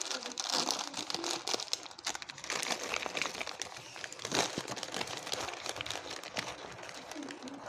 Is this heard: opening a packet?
yes